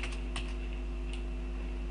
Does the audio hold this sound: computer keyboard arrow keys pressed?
yes